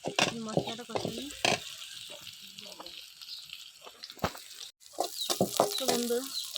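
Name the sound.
onions frying and being stirred in oil in a kadai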